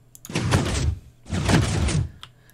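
A Minecraft piston door moving in the video game, two heavy sliding whooshes in close succession, each about half a second long and loud and near.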